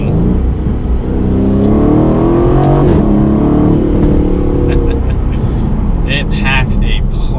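Aston Martin Vantage V8 in track mode with the exhaust opened, revving loudly and continuously at close range, the engine note rising and falling across the clip.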